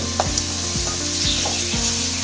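Steady sizzling of onions sautéing in a pan for mutton chukka, with regular stirring scrapes every second or so, close and continuous with no voices.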